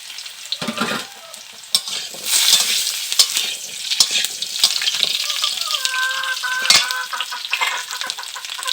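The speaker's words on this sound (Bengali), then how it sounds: "আমি এর মধ্যে কেটে রাখা আলুটা দিয়ে দিলাম।" Chopped potatoes, onion and slit green chillies fry in hot oil in a pan with a steady loud sizzle, broken by sharp clanks and scrapes of a spoon stirring against the metal.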